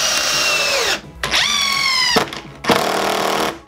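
A cordless drill and an impact driver drive screws, loud and close, with motors whining up and down in short bursts and the motor pitch bending as each screw seats.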